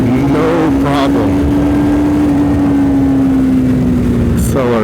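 A Triumph Speed 400 motorcycle engine drones loudly and steadily at close range amid constant wind rush while riding, its pitch holding nearly level, with someone talking over it throughout.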